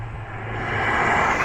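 A steady burbling drone from a Ford Focus ST's 2.3 litre turbocharged four-cylinder EcoBoost engine with low rumble that swells gradually louder over a second and a half, no voices.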